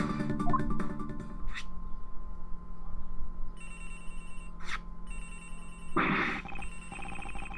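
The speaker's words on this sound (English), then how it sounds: "Agent Hicks' phone! It's ringing from somewhere, sir!" A phone rings in the Ace Attorney video game, a repeated electronic ring tone heard over steady background game music.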